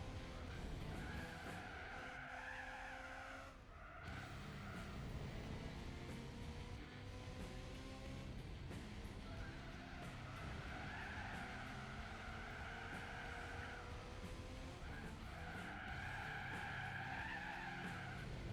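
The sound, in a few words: tires skidding in a drift, from the video game Gran Turismo 4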